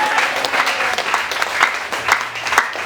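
A church congregation claps and cheers in praise of the Lord Jesus, with steady, rhythmic applause and crowd noise throughout and a few voices rising over it.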